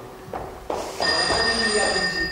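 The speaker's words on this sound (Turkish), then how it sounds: "Telefon." A telephone rings in an office, a bell-like electronic ring rising after a couple of soft thumps and sustaining clearly for about a second and a half, close and fairly loud.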